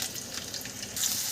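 Chopped onions hitting hot oil in a pan on the stove for a drumstick and potato curry, giving a steady broadband sizzle that swells louder near the end, with no talking.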